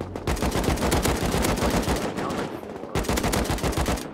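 Loud rapid automatic gunfire in the survival video game Rust, dense bursts of shots filling the clip with a brief pause near the end before firing resumes.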